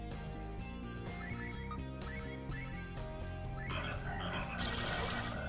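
A frogman creature in the video game Terra Incognita croaks in a steady, dense run of low, rhythmic croaks layered over loud game sound, continuous throughout.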